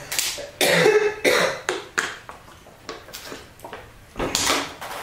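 A string of short, sharp coughs close to the microphone, several in a row with brief pauses, followed by a couple more later.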